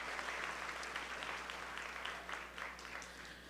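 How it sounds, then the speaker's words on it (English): A commencement crowd applauds the graduating class with steady, dense clapping, faint and distant, sustained throughout without a break. "give yourself a round of applause"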